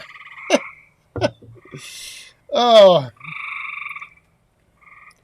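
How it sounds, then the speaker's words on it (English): Frogs croak loudly and close by outdoors on a cool night, repeating in rhythmic bursts. A man briefly exclaims between the calls. "you guys can hear those frogs, can't you?"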